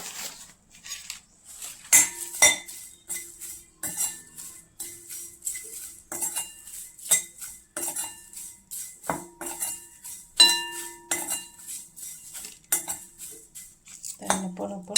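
Dry stone flower spice rattles and scrapes in a pan during roasting for Kolhapuri red chutney, with repeated metallic clinks of a spoon against the pan at an uneven rhythm, close and moderately loud.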